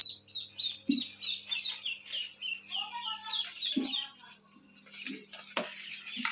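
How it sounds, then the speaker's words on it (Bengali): Newly hatched ducklings and quail chicks in a brooder give a rapid run of high, bright peeps, fairly close and steady, broken by a few soft low thumps near the end. "এই পাশে কোয়েল পাখির বাচ্চা আছে, আর এই পাশের বুডিংটাতে হাঁসের বাচ্চাগুলোকে রাখা হচ্ছে"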